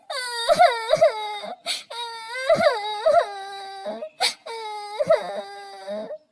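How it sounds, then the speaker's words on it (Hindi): A child cries and wails in repeated drawn-out bursts with short pauses between, loud and close, sobbing rising and falling. "उसके कानों में बच्चे के रोने की आवाजें आ रही थी।"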